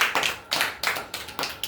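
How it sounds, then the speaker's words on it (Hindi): A small group clapping hands together in a steady rhythm, six sharp bursts of claps about a quarter second apart, close and fairly loud, with no talking. "आइए हम लोग ताली मारेंगे।"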